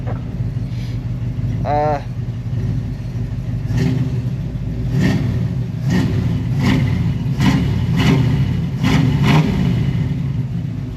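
A junk Chevy 283 small-block V8, long left abandoned, idles steadily with a rough, rumbling tone and a brief light whine partway through, close by and continuous.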